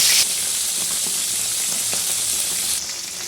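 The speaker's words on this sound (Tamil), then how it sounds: "அதில் கருவாடை போட்டுக்கலாம். போட்டு சிம்மில் வச்சு லைட்டாக ஃப்ரை பண்ணி எடுத்துக்கலாம்." Dried fish (karuvadu) sizzles steadily in hot oil over a low flame, a dense continuous crackling hiss with scattered pops, close and fairly loud with no talking.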